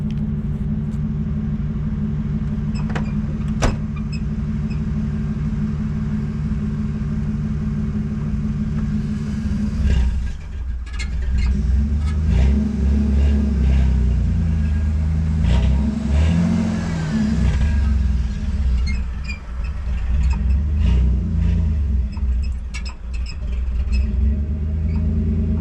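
An old Chevrolet S10 pickup idles, then pulls away and drives around a field, a deep engine rumble that swells as it accelerates and keeps a steady, fairly loud drone from start to finish.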